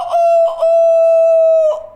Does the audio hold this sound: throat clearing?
no